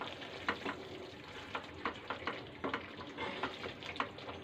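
Yogurt and oil sizzle in a pan while doi potol, a Bengali dish of pointed gourd in yogurt gravy, is cooked. A steady frying hiss carries soft stirring clicks and scrapes, with no talking.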